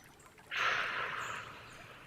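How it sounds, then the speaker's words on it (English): One deep, airy breath during a yoga pose swells up abruptly, holds about a second, then fades softly, close and alone against a quiet room. "Let's take 5 breaths at whatever stage you decide to be at"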